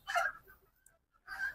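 Chickens cluck in a backyard poultry yard kept with roosters and turkeys: two short, faint bursts of clucking separated by a quiet pause, fairly distant, with no talking.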